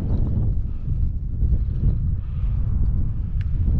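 Wind buffets the microphone while travelling through city streets on a delivery run, a steady low roar filling the whole stretch with no voices over it.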